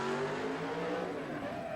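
A fire truck drives during a 1977 New York State firefighting competition at Cicero, its engine a steady, loud roar that sustains throughout, close and continuous with no talk.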